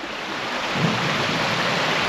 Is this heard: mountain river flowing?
yes